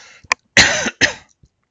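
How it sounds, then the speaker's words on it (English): One short dry cough, then two heavier, close coughs in quick succession from a man pausing while reading Bible scripture aloud, with silence around them. "Sorry for coughing in your ear"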